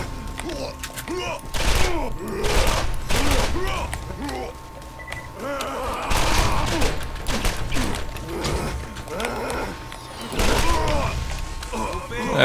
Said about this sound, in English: Whoa, that is definitely a rocket.